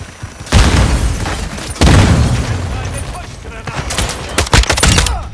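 Grenade explosions in Call of Duty: Modern Warfare 2, two loud booming blasts followed by rumbling, with scattered gunfire near the end and a voice shouting over the battle.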